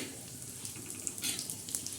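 Steady, soft sizzling of Bombay duck (bombil) fish frying on a hot griddle, with faint crackles and small pops, no voices.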